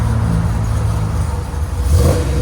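A Scat Pack engine-swapped RAM 1500 pickup with exhaust cutouts revs loudly up close, a deep steady engine roar that swells toward the end, with no talking.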